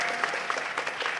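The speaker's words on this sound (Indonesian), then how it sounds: "tepuk tangan untuk Grace" Audience applause ringing out in an Indonesian hall during a performance, a steady patter of clapping from the crowd throughout the short burst.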